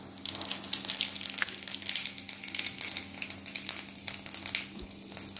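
Cumin seeds sizzling in hot oil in a kadhai, a dense, steady crackling fry with bursts of spitting pops, close and continuous with no talking over it.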